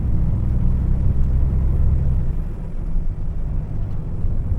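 Truck cab interior on a recently repaired two-lane road: a loud, steady low engine and road rumble drones throughout, close and continuous, with no speech.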